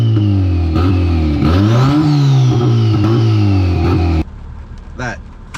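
A turbocharged Toyota Celica engine revs up close just after its first start, loud and rising and falling through several swells before cutting to a quieter idle.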